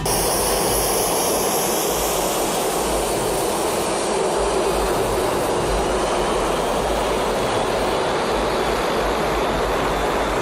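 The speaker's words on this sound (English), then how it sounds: "A small crowd gathers to watch a commercial airliner take off" A commercial jet airliner takes off, its loud, steady broadband engine roar filling the scene without pause while a small crowd of onlookers watches.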